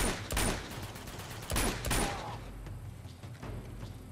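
Automatic AK rifle fire in the video game Uncharted 2 set in Borneo, two loud bursts of rapid shots followed by fainter distant gunfire trailing off.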